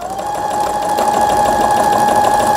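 A Brother Innovis 10 home sewing machine, under repair, runs a steady stitching pass, its close, even mechanical whir humming at constant speed with a fine rapid needle chatter and no voices.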